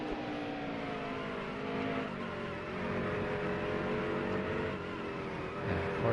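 Race car engine in a racing video game at New Hampshire, holding a steady, loud droning whine with layered harmonics that shift slightly in pitch as the car runs in fourth gear, with no pauses.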